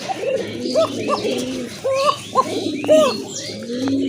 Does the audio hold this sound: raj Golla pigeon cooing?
yes